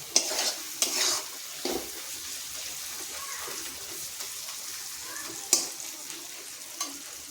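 Spice paste with chili powder being stirred in a hot pan: close scraping stirs and a few sharp utensil clicks over a continuous soft sizzle.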